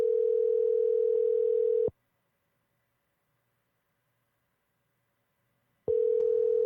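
A steady telephone dial tone hums for about two seconds, goes silent for four seconds, then returns. The tone is loud, clean and close, and no one speaks over it.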